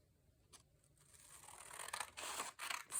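Scissors cutting through a thick book page for a junk journal craft, with soft snips at first that grow into louder, close crisp cuts with a rustle of paper.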